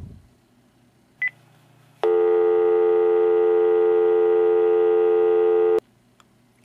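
After a dropped call, a telephone line gives one short beep, then a steady, loud buzzing tone sounds alone for nearly four seconds before stopping with a click.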